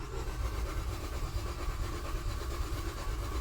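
A Nissan engine with no spark is cranked over with its camshaft sensor disconnected, producing a steady, rhythmic low churning rumble that pulses evenly throughout without catching.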